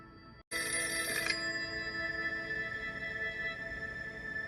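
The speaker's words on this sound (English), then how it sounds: "Then the telephone rang." A telephone bell rings once in a short loud burst, then its tone hangs and fades in a quiet room, with no voices.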